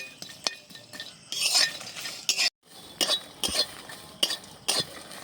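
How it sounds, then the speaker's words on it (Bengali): Garlic and dried red chillies stirred and fried in a wok for garlic bharta, with clinks of a spatula against the pan and bursts of sizzling in uneven strokes, one brief silent gap midway. "দেখো শুকনো লঙ্কা রসুনটা খুব ভালোভাবে ভেজে নিয়েছি"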